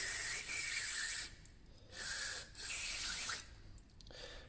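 An EGR valve being cleaned over a drain pan, soaked in cleaner while its shaft is worked in and out, heard as close bursts of hissing spray and rubbing that stop and start three times; no voices.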